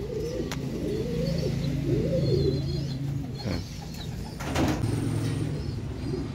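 Racing pigeons coo softly in a low, repeating warble, with faint chirps and outdoor background noise throughout.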